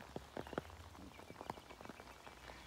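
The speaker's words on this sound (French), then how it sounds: "c'est la pluie dans le 41" Rain falling at seven in the morning in the Loir-et-Cher countryside, very faint scattered drips and taps on a surface against a quiet background.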